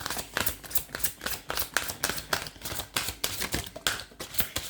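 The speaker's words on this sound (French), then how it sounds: "On va tirer 3 cartes." Tarot oracle cards being shuffled and drawn, a quick run of crisp rhythmic riffling snaps and slaps, close and moderately quiet, with no talking.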